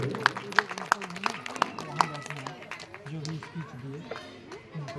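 A crowd claps in a burst of scattered applause, with sharp individual claps early on and voices chattering underneath.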